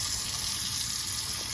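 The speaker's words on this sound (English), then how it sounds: "you need to add your half cup of water" Half a cup of water pours into a container for a macromolecules lab exercise, a brief, continuous splashing gush close by with no talk over it.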